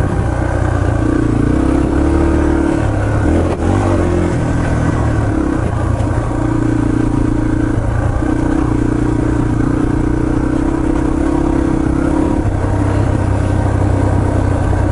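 A Yamaha TT-R230 dirt bike engine drones steadily while riding wooded trails at Windrock Park, a close, loud single-cylinder hum with shifting pitch as the throttle rises and eases, rattling and clattering over rough ground without pause.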